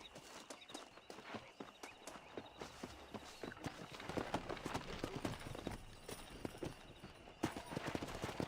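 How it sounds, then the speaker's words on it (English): Horse hooves clatter in a steady galloping rhythm, loud and close, with a busy outdoor background, in the video game Red Dead Redemption. "let's see if we can't wrangle some horses"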